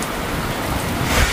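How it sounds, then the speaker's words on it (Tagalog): Steady rain pouring down after a three-month El Niño dry season, a dense, even hiss that stays constant and fairly loud throughout, with a slight swell near the end and no voices. "Ganito dapat yung ulan lagi."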